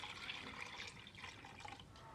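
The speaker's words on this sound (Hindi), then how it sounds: "अब एक बर्तन लें और उसमें पानी डाल दें।" Water pours into a cooking pot in a soft, continuous splashing stream, faint and fairly close in a home kitchen while eggplant slices for baingan bhaja are prepared.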